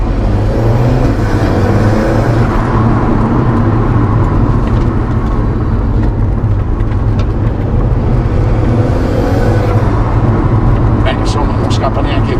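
An Alfa Romeo 4C Spider sports car accelerating, a steady loud engine drone and road rumble heard from inside the cabin, with voices talking over it.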